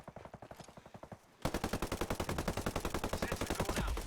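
Rapid automatic gunfire from the shooter game Ghost Recon Breakpoint, first a lighter burst and then a louder, sustained stream of evenly spaced shots up close, with no speech over it.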